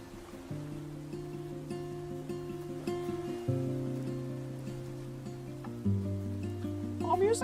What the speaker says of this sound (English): Oh, music sounds pretty nice.